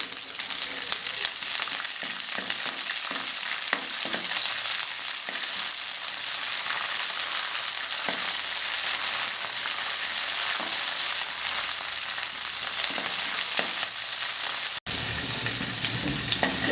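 Onion and green peas sizzle steadily in a hot pan for a Nepali egg chow chow soup, a dense, continuous frying hiss with occasional stir scrapes, near and loud, with a brief dropout near the end.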